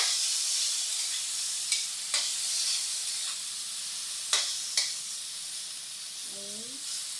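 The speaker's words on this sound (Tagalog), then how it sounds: "Medyo natutunaw na konti yung taba niya." Pork fat fries and melts in a pan with a constant bright sizzling hiss, broken by a few sharp utensil taps and a brief voice near the end.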